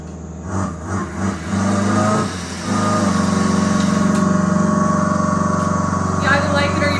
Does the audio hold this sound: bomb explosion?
no